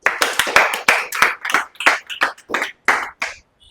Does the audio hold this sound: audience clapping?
yes